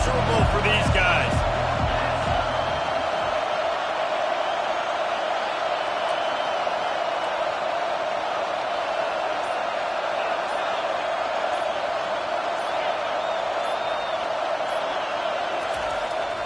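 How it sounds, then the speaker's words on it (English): Stadium crowd at a college football game, a continuous loud roar filling the space at a steady level, with a few thuds at the start. "This crowd going to try to make life miserable for these guys."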